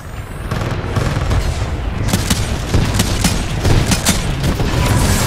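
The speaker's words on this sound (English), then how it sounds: "There are mortar titans launching rockets at the harvester." Rapid volleys of mortar titans launching rockets in Titanfall 2 multiplayer, a loud, dense barrage of booming blasts and crackling gunfire-like bursts that keeps going without a break.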